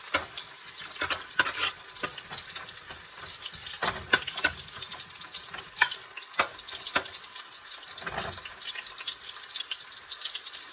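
Ginger frying in a pot until golden brown, a faint steady sizzle broken by scattered clinks and scrapes of stirring.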